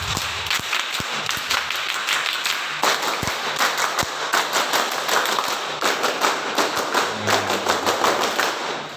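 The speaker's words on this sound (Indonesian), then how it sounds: "3 kali tepuk pramuka" A group performs the scout clap (tepuk pramuka) three times, producing rows of sharp, crisp hand claps in quick rhythmic patterns with short pauses between rounds, moderately loud in a room.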